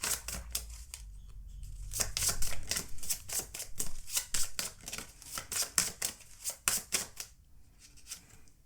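Tarot cards are shuffled and drawn from a deck, with quick papery flicks and snaps in dense clustered runs close to the microphone, separated by brief pauses.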